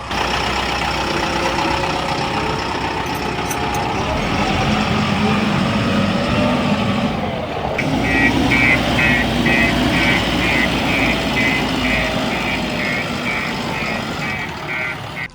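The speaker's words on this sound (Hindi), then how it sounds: "तो अब देखते हैं हमारे न्यू हॉलैंड 5500 की आवाज़। ये रोटरी पंप है और इसीलिए इतनी ज़्यादा थोड़ी सी डिफरेंट आवाज़ है।" A New Holland 5500 tractor with a rotary pump runs without its silencer, giving a loud, continuous, rough engine drone that holds steady throughout with a slight shift partway.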